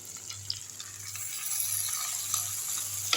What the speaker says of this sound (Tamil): எல்லாத்தையும் சேர்த்து நல்லா வதக்கி விட்டுருங்க